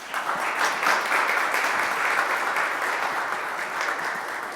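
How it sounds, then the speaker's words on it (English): A concert audience at St. Edward applauds a performer named Melanie after her piece, dense clapping rising quickly and holding steady before easing slightly toward the end. "let's give her a round of applause"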